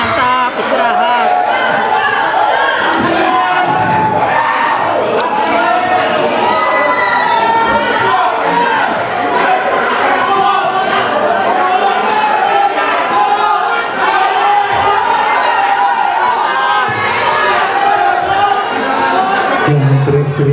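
A courtroom crowd during a trial hearing shouts and clamors continuously, a dense, loud wall of overlapping voices with no pauses, like a noisy market.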